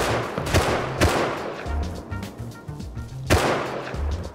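Gunfire in a multiplayer survival shooter game, loud sharp shots in several separated bursts over steady ambient noise.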